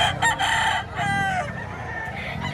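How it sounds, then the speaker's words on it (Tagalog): A year-old green-legged rooster crows nearby while other chickens cluck, over a steady background of farmyard noise. "Mag-iisang taong manok ito"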